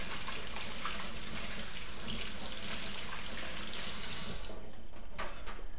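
Kitchen tap running steadily while hands are washed under it, a continuous close splashing stream with a brief brighter gush near the end.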